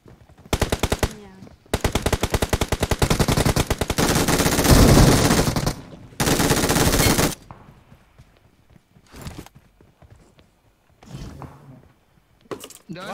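Rapid automatic gunfire from PUBG Mobile, loud, dense bursts over the first seven seconds, followed by scattered single shots and quieter gameplay noise, with a voice talking at times.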